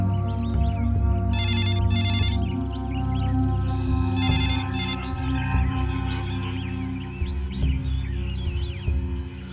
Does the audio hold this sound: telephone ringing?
yes